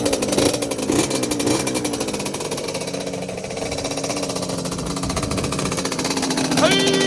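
The rebuilt two-stroke engine of a Yamaha Banshee ATV idles with the choke on, a loud rapid rattling buzz that blips up briefly near the end.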